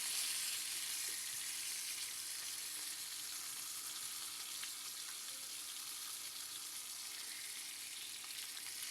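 A thick tilapia fish fries in a pan of oil, producing a steady, hissing sizzle that stays constant and fairly quiet for the whole stretch, with occasional small pops.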